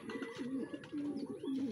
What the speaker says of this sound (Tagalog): Ayan, ito na yung pangatlo nating ibon.